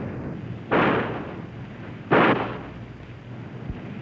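Shot line fired between Navy ships during underway replenishment at sea in 1968, two sharp loud reports about a second and a half apart over steady wind and engine rumble.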